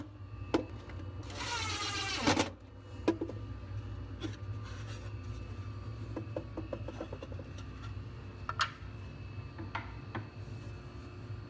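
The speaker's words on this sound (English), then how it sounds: "I'm just going to screw a shelf bracket in." Screwing a shelf bracket into a wooden lathe and benchtop-tool cabinet: a brief loud whirring burst from a power driver, then scattered scraping, tapping and small clicks of hardware being handled, close up, with no talk.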